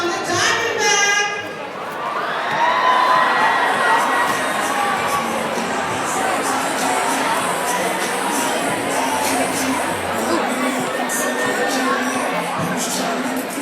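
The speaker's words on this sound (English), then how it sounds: "Give him a round of applause, you guys." A crowd of children at a school assembly cheers and shouts loudly in a sustained, excited roar. A voice speaks briefly over the noise at the start, and the din holds steady to the end.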